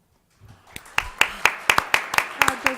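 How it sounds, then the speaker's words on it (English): A school governing board meeting audience breaks into applause, starting with a few scattered claps and building into steady, rhythmic clapping from a small crowd in an indoor room. "Crowd goes wild."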